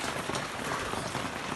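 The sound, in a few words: heavy rain falling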